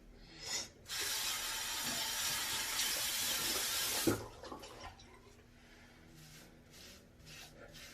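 A brush scrubs through wet, co-washed hair on a head of 360 waves, a steady broadband rasp lasting about three seconds after a brief first stroke, then softer intermittent brushing strokes, close and quiet, with no talking.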